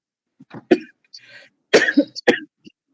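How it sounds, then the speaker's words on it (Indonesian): A few sharp coughs and throat-clearing sounds from a nearby person, with brief murmured vocal sounds in between. "Sorry ya, batuk."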